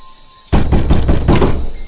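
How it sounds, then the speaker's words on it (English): Repeated loud knocks on a cabin door, a rapid series of heavy raps arriving in about four close bursts after a brief quiet start. "Let me check that door. See who that could be."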